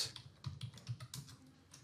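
An invoice name is typed on a computer keyboard, with a run of quiet, close keystrokes clicking in an irregular rhythm and no talk.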